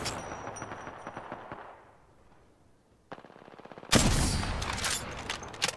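Automatic gunfire from the Apex Legends video game rattles in rapid bursts: early shots trail off into quiet, then a fast stuttering burst builds into a loud, dense volley of close shots.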